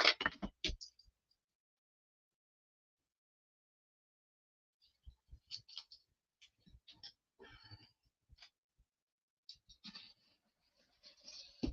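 Scissors cutting paper for a handmade art journal, quiet snipping and rustling in short bursts after a long silent gap, close and soft.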